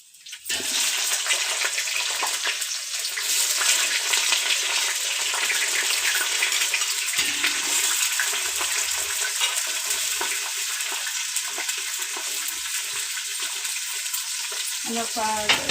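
Chopped onions drop into hot oil with spices while cooking chicken biryani, raising a loud, steady sizzle and hiss that holds for about fifteen seconds, with a few clinks and stirring noises near the end.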